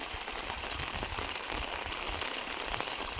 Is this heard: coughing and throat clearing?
no